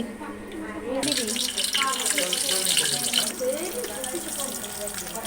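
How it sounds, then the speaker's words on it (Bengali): Mustard oil pouring into a vessel while pickling brinjal, a steady liquid stream that starts about a second in and runs continuously at moderate loudness, with speech partly over it. "এবারে আমরা সর্ষের তেল ঢেলে নিচ্ছি"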